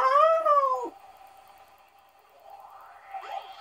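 A person imitates a cat with a loud, wavering meow up close, followed after a quiet pause by a second, fainter drawn-out meow.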